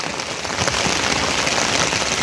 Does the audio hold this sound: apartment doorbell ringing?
no